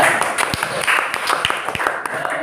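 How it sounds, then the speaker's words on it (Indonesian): Students in a classroom give a short burst of hand clapping, moderately loud and close, blended with murmuring voices. "tepuk tangan untuk Anda"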